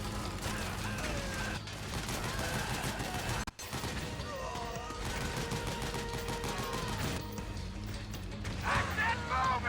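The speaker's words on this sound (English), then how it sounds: "Use the machine gun." Rapid machine gun fire and battle noise from the video game Metal Gear Solid 4, dense and continuous over a busy soundtrack, with voices at times.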